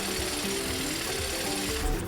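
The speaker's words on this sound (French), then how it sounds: "Marteau-piqueur!" A steady, loud mechanical rattling and grinding of a jackhammer in the animated film Paw Patrol: Mission Dino, running continuously and close by.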